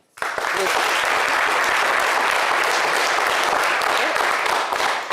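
A crowd breaks into loud, sustained applause that starts abruptly and continues steadily throughout.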